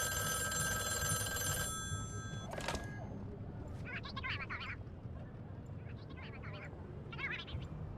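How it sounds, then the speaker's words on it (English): An old-style telephone bell rings in short bursts in the VR game Madrid Noir, loud at first and then cut off, followed by faint electronic chirps over low room ambience. "The phone, please."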